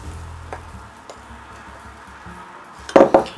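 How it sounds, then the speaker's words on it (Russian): A spoon gently mixes cake batter in a bowl. Soft scraping sits under a low background for a few seconds, then two brief, louder clinks of spoon against bowl land close together near the end. "И ложечкой аккуратно все перемешиваем"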